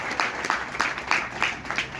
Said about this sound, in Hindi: तो मैं चाहूँगा कि इनके लिए जोरदार तालियां,